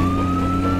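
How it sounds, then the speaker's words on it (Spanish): A police car siren in a video game, a loud sustained electronic tone sounding steadily and up close over a low engine hum, with no talking. "¿Esto es una sirena?"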